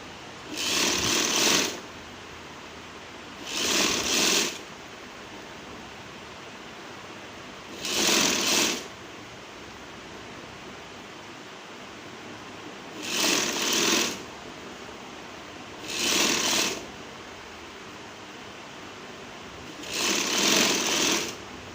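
A sewing machine stitches a sleeve onto a kurti in six short bursts of rapid, loud needle chatter. The bursts are spaced a few seconds apart, with quiet pauses between them and no talking.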